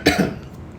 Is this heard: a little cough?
yes